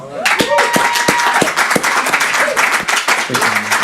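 A small group claps for the 50th guest of an indie musician spotlight show, sharp individual claps close to the mic with a few brief tonal sounds mixed in.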